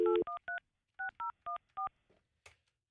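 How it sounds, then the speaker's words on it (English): A cell phone number is keyed in as a quick series of distinct touch-tone beeps in an irregular rhythm, clear and close in a quiet room, followed by a couple of faint clicks. "Let me try this cell phone"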